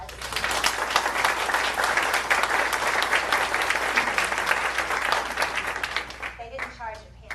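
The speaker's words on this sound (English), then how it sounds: "could you give them a round of applause?" An audience at a school board presentation on magnet school design breaks into loud, dense applause that holds steady for several seconds, then thins out and fades as a voice starts speaking.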